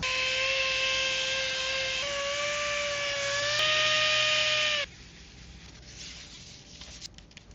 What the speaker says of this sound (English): All right, let's do some sanding.